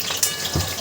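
Onion sizzles in hot oil over a high flame, a steady close-up hiss with a brief sharper crackle.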